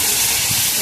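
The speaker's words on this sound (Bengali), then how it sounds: "এবার আমি জল গরম রেখেছি, জলটা ঢেলে দিলাম।" Hot water poured into a pan of braised broiler chicken gives a loud, brief hissing gush up close, the steam rushing over the pan for under a second.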